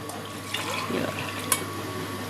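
Stock (yakhni) being poured from a glass into a pot of water for chana pulao, a brief close liquid splash and trickle over a steady kitchen hiss.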